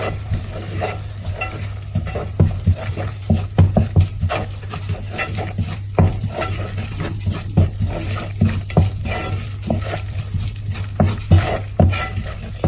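A spoon stirs flour into melted butter in a pan for a Venezuelan lasagna white sauce, making repeated scraping strokes and soft clacks over a low, steady sizzle.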